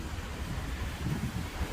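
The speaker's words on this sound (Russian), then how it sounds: "Ветер. Просто жесть." Strong wind buffets a balcony in Yeysk, roaring steadily and close against the microphone as a dense, unbroken rush of noise with no talk.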